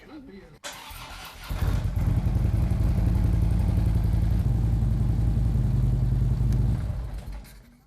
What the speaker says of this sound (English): I'm gonna start the bike up.